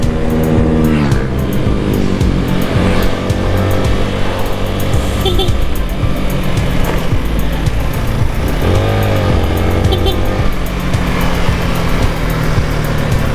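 A motorized tricycle engine runs loud and close throughout, with a steady revving drone and occasional pitch swells, while voices talk over it outdoors.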